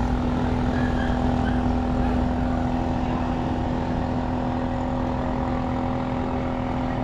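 A motorcycle engine runs steadily at idle, giving a continuous close, even hum with a low droning tone that holds unchanged throughout, with no voices.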